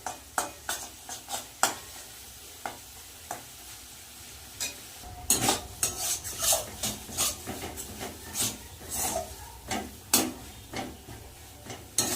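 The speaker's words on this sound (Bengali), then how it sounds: "এবার ভালো করে কড়াইতে টালব একদম শুকনো শুকনো হবে" Repeated scraping and clacking of a spatula stir-frying a thick onion and poppy seed paste dry in a wok, irregular strokes over a soft sizzle, busier in the second half.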